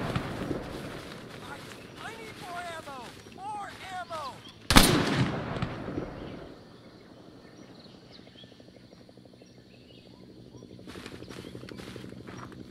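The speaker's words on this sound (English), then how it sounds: "Keep firing!" Gunfire in an Arma 3 S.O.G. Cam Lao Nam firefight in a rice paddy: a sharp loud burst near the middle, with rapid shots and battle noise before it and quieter scattered shots later, under shouted voices.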